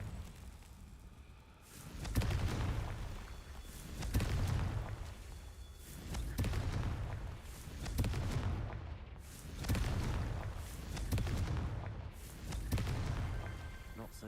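Heavy booming blasts from fire-spell explosions in a video game roll out at a steady pace, roughly every two seconds, each one swelling and then fading.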